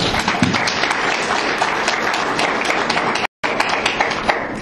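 Audience applause at a county supervisor candidate forum, a dense, steady clatter of many hands clapping close and loud, cut by a brief dropout near the end.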